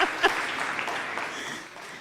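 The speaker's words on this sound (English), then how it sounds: "Please give St. Margaret's Boys Anglican Steel Orchestra another round of applause" An audience at an institute day ceremony claps for a boys' Anglican steel orchestra, a short burst of dense, steady applause that fades slightly toward the end.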